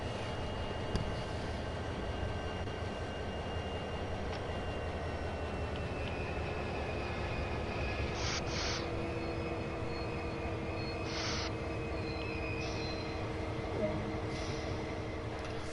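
An SD40 diesel locomotive in the video game Train Sim World 2 on the Clinchfield Railroad, a steady low engine drone and rumble holding throughout, with brief hissing puffs now and then.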